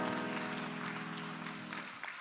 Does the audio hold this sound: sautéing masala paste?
no